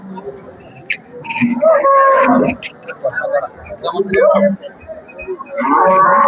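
A cow moos a few times amid the chatter and bustle of a busy outdoor cattle market in Kalghatgi, Karnataka, with people talking nearby.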